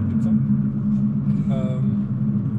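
A Ferrari 488 Spider cruising at easy pace, its low engine rumble steady and close throughout, with a brief higher tonal whine partway through.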